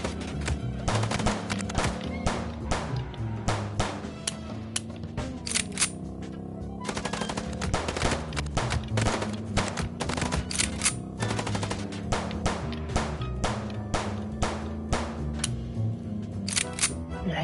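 Rapid gunfire during a car chase in the Chicken Police video game: bursts of sharp, closely spaced shots rattle almost continuously over a low engine-like rumble, fairly loud and steady throughout.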